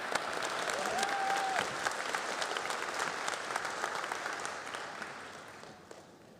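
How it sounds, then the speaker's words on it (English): Audience applause at a GCU honors society induction ceremony, a dense wash of clapping that builds quickly, holds steady, then slowly thins and fades toward the end, with no voices over it. "join me in giving her a huge round of applause"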